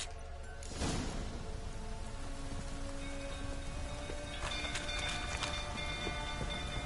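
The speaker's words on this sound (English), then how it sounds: "Looks like rain." Steady rain pattering on surfaces in a PS4 video game, with faint rhythmic hoofbeats and a low ongoing hum underneath, heard at a moderate distance.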